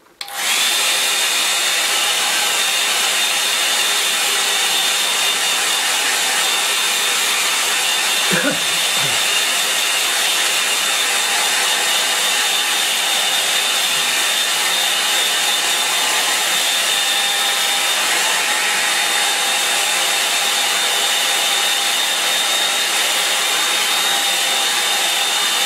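A hair dryer runs loud and steady, drying something off with an unbroken whooshing roar from start to finish, and a brief voice cuts in partway through.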